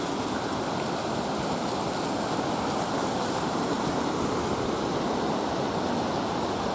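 Water tumbles down stepped weirs in a mountain stream, a loud, steady broadband rush that holds constant throughout with no voices.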